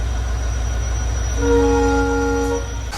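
A passenger train pulling into Bhavnagar railway station rumbles loudly and steadily, and its horn sounds one long sustained toot midway before cutting off.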